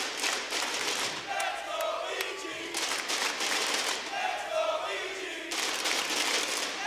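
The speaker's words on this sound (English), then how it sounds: "The crowd trying to get a reluctant cheer going." Crowd noise in an esports arena during a Rainbow Six Siege match swells into a loose, broad cheer in several waves, dipping briefly between bursts before a fuller roar returns near the end.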